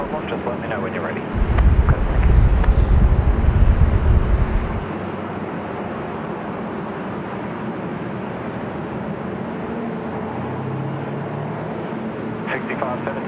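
An airliner taxis back to its bay at Sydney Airport in windy weather, with a steady broadband engine roar throughout and heavy low wind buffeting for a few seconds early on.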